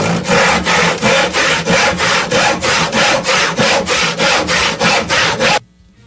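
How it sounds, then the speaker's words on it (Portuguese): A handsaw cuts through a horn with a steady back-and-forth rasp, about fourteen loud, close, evenly spaced strokes, then stops abruptly. "Me dá o serrote."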